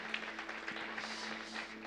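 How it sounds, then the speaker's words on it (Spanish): A church congregation applauding during a worship service, a faint, diffuse patter of many hands clapping in a reverberant hall, steady for a couple of seconds with a low tonal hum behind it. "Levante ese aplauso al Señor."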